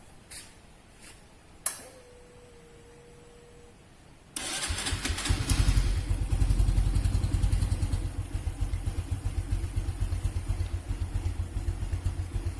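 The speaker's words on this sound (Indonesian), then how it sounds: "langkah pertama kita hidupkan kendaraan" A motor vehicle is started after a few clicks and a brief whine, then its engine catches and runs at a loud, steady idle with a rhythmic, slightly uneven chug.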